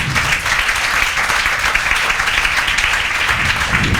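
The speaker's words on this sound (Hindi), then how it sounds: "गौरव ताइडे के लिए जोरदार तालियां" A classroom of students gives a loud, sustained burst of clapping for a classmate during a trigonometry lesson, steady and dense for the whole stretch with no talking over it.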